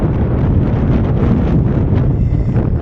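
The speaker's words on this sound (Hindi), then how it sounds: "और हवा इतनी तेज़ चल रही है ना, बहुत तेज़।" Strong wind buffets the microphone at a high mountain viewpoint on the Silk Road near the China border, producing loud, continuous rumbling blasts with no letup.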